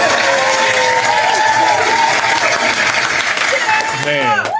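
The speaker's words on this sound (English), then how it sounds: "give me another round of applause" Audience applause rises for a live show's 200th episode, with dense continuous clapping and cheering throughout, rapid crowd claps overlapping with whoops, steady and loud from start to finish.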